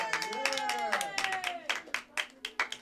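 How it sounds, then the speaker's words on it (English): Audience applause for the wrestler Mr. Bread at a live wrestling show: scattered claps build from a tonal, voice-like sound into sharp, separate hand claps near the end. "Everybody give Mr. Bread a round of applause."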